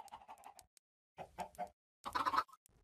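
Minecraft chicken clucking in three short bursts, a quick cluster of clucks, a pause, another group, then a louder run at the end, with no talk over it.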